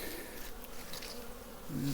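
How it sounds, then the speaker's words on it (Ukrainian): Honeybees buzz in a continuous, close drone around a hive during a winter cleansing flight, with one louder bee briefly passing near at the end. "Яка бджола активна."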